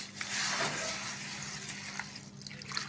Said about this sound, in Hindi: इसमें पानी डाल लेंगे इसको धोने के लिए।